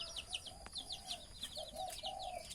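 Chickens clucking amid a run of quick high chirps from an egg incubator made from an ice chest, faint and steady, with no talking.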